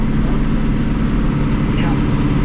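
Steady drone of a stalk-chopping mower engine running while chopping stalks in snowy field conditions, a constant low rumble, close and loud, with a voice speaking over it.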